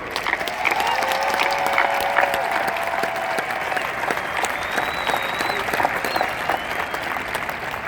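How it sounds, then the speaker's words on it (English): Graduation audience at UNC Chapel Hill gives a sustained round of applause, a dense, steady wash of clapping from a large crowd that holds at even loudness throughout, with faint crowd murmur underneath. "How about one more round of applause?"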